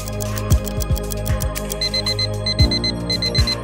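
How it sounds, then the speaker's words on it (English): An ANENG 613 multimeter's alarm reminder goes off as rapid bursts of high-pitched beeps, repeating in quick groups over loud background music with a thumping beat. "Set alarm time. And their reminder will be issued when the time is up."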